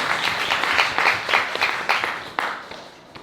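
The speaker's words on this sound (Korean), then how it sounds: "박수 부탁드립니다." Audience applause at a Korean disability rights talk concert, a lively burst of many hands with individual sharp claps that gradually fades out near the end.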